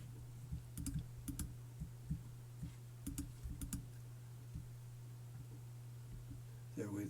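Keyboard shortcut presses on a computer during Photoshop editing, a few quiet clicks in small clusters over a steady low hum, near and soft.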